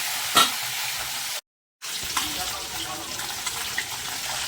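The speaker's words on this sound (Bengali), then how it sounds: "দেখো বন্ধুরা, মাছ ভাজা হচ্ছে" Fish frying in a pan, a steady broadband sizzle with a sharp clatter near the start, cutting out briefly to a silent gap before the sizzle resumes at the same moderate level.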